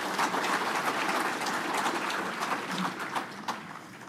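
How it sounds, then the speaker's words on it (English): Sustained applause from an audience at an electric cooperative's annual meeting, steady clapping at moderate level filling the room throughout. "Y'all please give them a round of applause."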